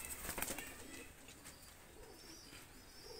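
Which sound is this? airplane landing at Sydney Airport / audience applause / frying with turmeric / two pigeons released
two pigeons released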